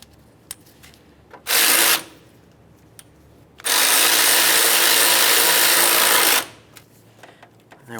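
Two bursts of mechanical buzzing, a short one then a longer sustained run of about three seconds, from a tool snugging radiator bracket bolts on a 2007-2012 Nissan Sentra; fairly loud and close, with quiet pauses between.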